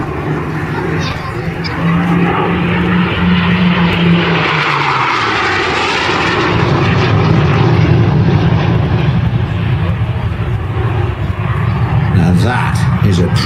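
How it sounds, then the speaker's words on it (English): A Hawker Hunter jet fighter flying an airshow display at East Fortune roars loudly overhead with a sweeping, shifting engine tone as it passes, while a commentator talks throughout. "the most beautiful jet fighter designed by anybody at any time"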